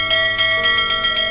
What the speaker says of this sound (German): Läutest du etwa schon wieder die Glocke?